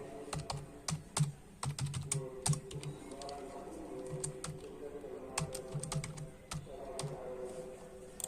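Someone types a password on a computer keyboard, producing quiet, irregular clusters of sharp key clicks with short pauses between bursts.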